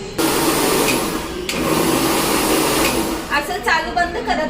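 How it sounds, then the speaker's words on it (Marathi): A kitchen mixer grinder churns butter, a loud steady motor whir with sloshing running for about three seconds, then stopping into a stuttering, pulsing finish as the blades slow. "म्हणजेच मिक्सरमध्ये चालून घ्यायचं आहे"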